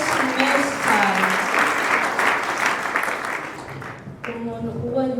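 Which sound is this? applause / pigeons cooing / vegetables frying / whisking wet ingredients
applause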